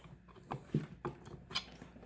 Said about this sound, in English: Go ahead and wiggle that off there.